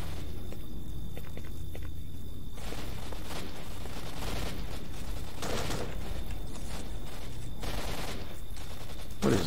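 Gunfire rings out in S.T.A.L.K.E.R. Shadow of Chernobyl, scattered shots and bursts at a moderate distance mixed with footsteps and steady ambient noise over several seconds.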